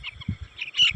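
Chickens on a poultry farm chirp and cheep in short bursts, close and fairly loud, with soft low thumps scattered between the calls.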